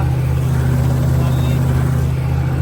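Tractor driving in circles over wet ground, its engine a steady, loud, low drone close by, with no break in the sound.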